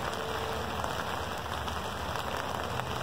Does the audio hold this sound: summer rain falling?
yes